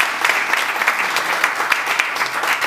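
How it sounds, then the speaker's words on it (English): Steady audience applause at an evening gathering, dense and continuous with many hands clapping at once, fairly loud and close, with no talk over it. "Give him a round of applause, please."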